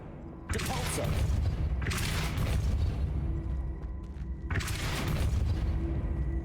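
Depulso spell cast in the Hogwarts Legacy video game: loud booming bursts of force, three heavy blasts over a steady low rumble, close and filling the foreground with no talk.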